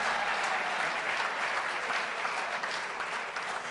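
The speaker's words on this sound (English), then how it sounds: "Let's have another round of applause for our future Rotarian" A Rotary club meeting audience gives a steady round of applause, thick and loud, with many hands clapping together without a break.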